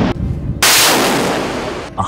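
An RBU-6000 anti-submarine rocket launcher fires aboard a naval ship, a sharp loud blast after a brief lead-in, followed by a sustained roaring rush that holds for over a second before cutting off.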